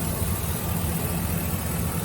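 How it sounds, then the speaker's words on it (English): GMC Savana van engine idling with the air conditioner running, a steady close-up rumble with a constant low hum and even mechanical drone, no talk. "This is the engine on, air conditioner."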